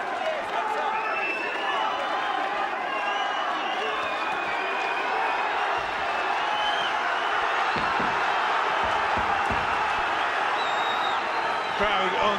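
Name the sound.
raucous boxing crowd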